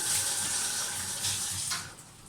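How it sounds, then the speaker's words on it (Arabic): Hands being washed under a running kitchen tap, a steady close hiss of flowing water with brief splashy surges, fading slightly at the end. "نغسل يديا"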